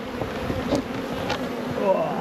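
Honey bees from a strong hive being split into Langstroth nucs hum in a dense, continuous close-up buzz, with individual bees droning past now and then.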